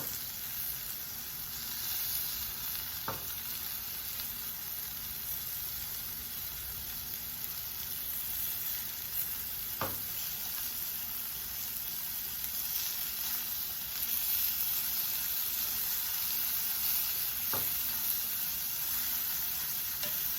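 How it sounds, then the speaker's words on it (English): Scallops sizzling in a pan on their second side after flipping, a steady close hiss that continues for about twenty seconds, broken by three faint clicks spaced several seconds apart, with no talk. "let them saute or fry on the other side"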